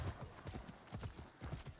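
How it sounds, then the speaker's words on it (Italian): A horse mount wreathed in purple flames gallops in the video game Immortals Fenyx Rising, a quick, faint, rhythmic clip-clop of hooves that keeps an even beat, with no talk over it. "Un cavallo con le fiamme viola."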